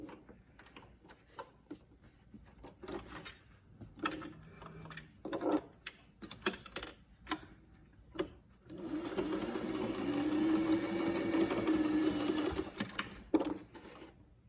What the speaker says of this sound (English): You don't need a fancy sewing machine to do these things.